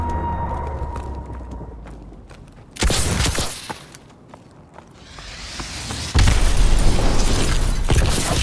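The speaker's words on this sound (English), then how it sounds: "Enemy missile strikes incoming!" Heavy explosions from enemy missile strikes in Call of Duty Advanced Warfare, a loud broadband blast near the three-second mark and a sustained roaring barrage from about six seconds on, with mechanical rumble between.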